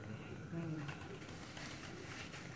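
High-flying pigeons coo faintly in a brief low burst amid steady outdoor background noise, with muffled voices around.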